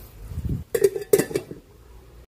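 Metal cooking pot lid set down in a kitchen while ribs simmer, a few quick clinks and clanks in close succession, fairly close and moderately quiet.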